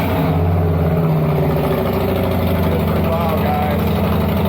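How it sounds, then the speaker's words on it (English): A 2022 Harley-Davidson Low Rider S motorcycle engine turns over and settles into a loud, steady, throbbing idle, close by, with a talking voice over the start. "let me quit yapping and start this bike up"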